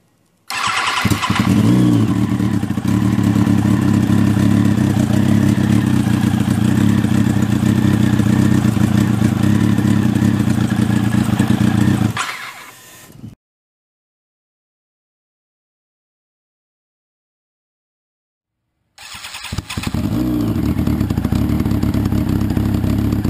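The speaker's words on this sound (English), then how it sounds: "She runs. I'll have to dial in the fuel." A turbocharged Kawasaki Ninja ZX10R motorcycle engine run on a standalone ECU fires up and holds a loud, rough idle for about twelve seconds, cuts out into silence, then starts again near the end.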